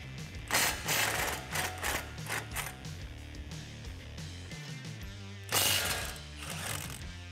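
A ratchet with a 21 mm socket loosens the large brake bracket bolts on a RAM 1500. The pawl clicks rapidly in repeated bursts close by, with no talk.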